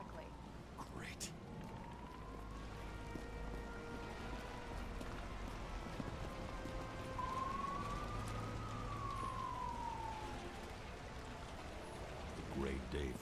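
A police car siren in a video game rises and falls in a faint, drawn-out wail beneath a steady bed of game noise and engine rumble, fairly distant rather than up close.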